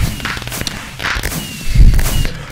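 Fireworks explode in the Minecraft video game on the Mianite fan server: repeated loud thumps, pops and whooshing bursts, with a rising whistle partway through, in a dense, busy stream of sound.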